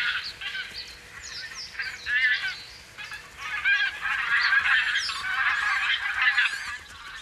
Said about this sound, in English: On land, the geese are extremely watchful.